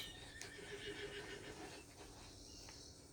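Horse in the Red Dead video game whinnies, a faint, quivering neigh lasting a couple of seconds over quiet game ambience, with no talk.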